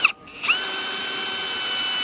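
A Ryobi power drill drives a screw: a brief stop, then a high steady whine from the motor that restarts and holds loud and close to the end.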